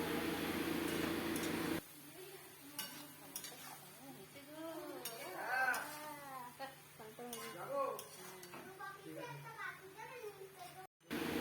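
A spoon stirs spices and salt through vegetables in a pan while making Bengali shukto, scraping and clinking against the metal in irregular bursts with light sizzling underneath and a voice talking over it.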